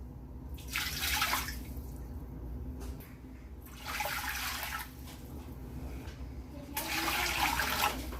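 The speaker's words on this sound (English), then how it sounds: "we're going to go ahead and add 10 cups of water to the pot" Water pours into a cooking pot in bursts for dill pickle brine, three separate rushing splashes with quieter gaps between them, close and moderately loud, with no talk.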